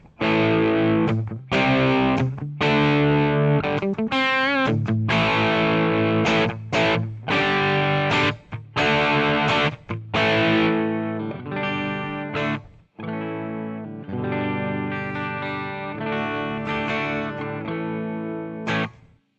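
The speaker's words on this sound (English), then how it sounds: "Alright, so that's the sound of that Marshall." Gritty overdriven electric guitar through a DIY Marshall-style distortion pedal, played in bursts of chords and riffs, loud and crunchy with short pauses between phrases.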